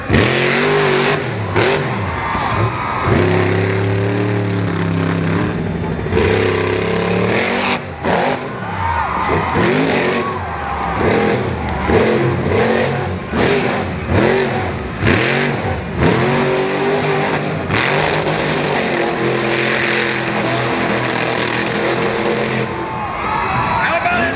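The Jailbird monster truck's engine revs and roars hard at a monster truck show in Miami, Oklahoma, with a crowd cheering and an announcer talking over the loud, surging engine.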